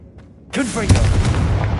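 A fiery Confringo spell blast in Hogwarts Legacy bursts in suddenly after a faint cry, a loud crackling explosion with a deep, sustained rumble and bright sizzle.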